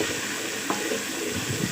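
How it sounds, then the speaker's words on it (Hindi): Ginger-garlic paste with onions being sautéed in a pan for masoor dal, a continuous soft sizzle with light stirring and a faint clink, with no talking. "अब इस पॉइंट पे हम इसमें शामिल करेंगे 1/2 टी-स्पून अदरक लहसुन का पेस्ट। ठीक है, इसको सौटे करेंगे हल्का सा।"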